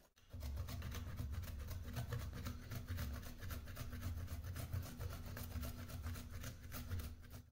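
Fresh ginger root being rubbed on a hand grater, a steady continuous rasping scrape that runs almost unbroken from start to finish, close and moderately loud, with no voices.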